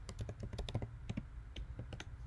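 Rapid clicking of keys on a computer keyboard while text is typed into a desktop publishing layout, an uneven run of close, crisp taps with short pauses between bursts.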